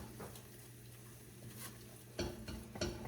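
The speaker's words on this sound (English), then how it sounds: "So just keep on stirring." A flour-thickened base for broccoli cheddar soup being stirred in a pot, with faint, soft scraping strokes over a low steady hum and a few sharper scrapes near the end.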